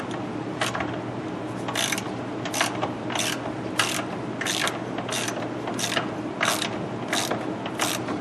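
A ratchet wrench tightens the front axle nut on a 2003 GMC Jimmy wheel hub, giving repeated close clicking bursts in a steady rhythm over a constant low shop hum.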